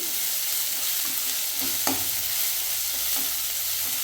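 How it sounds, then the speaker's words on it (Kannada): Tomato fries in hot oil for a beetroot palya, giving a loud, dense, unbroken sizzle with faint stirring taps, close up and without voices. "ಟೊಮೊಟೊನು ಕೂಡ ಫ್ರೈ ಆಗಲಿ ಎಣ್ಣೆಯಲ್ಲಿ. ಒಂದು 30 ಸೆಕೆಂಡ್ ಫ್ರೈ ಮಾಡ್ಕೊಳ್ಳಿ."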